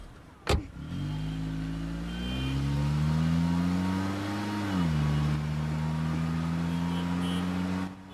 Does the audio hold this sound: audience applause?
no